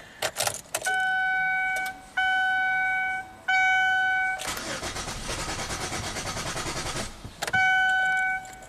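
A Chevrolet Equinox engine cranks on a spare battery with a boost pack attached, after several repeated electronic chimes; a strong, even rhythmic cranking churn runs for a few seconds, then stops before more chimes.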